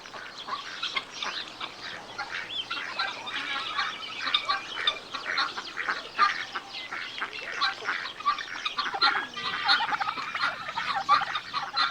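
Two rival male turkeys gobbling in a farmyard, a dense, continuous stretch of rapid, rattling calls, loud and close, with other fowl adding to the clamour.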